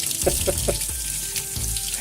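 Kitchen tap water runs steadily into a sink while dishes are washed, with a few soft clinks of crockery near the start over the continuous splashing stream.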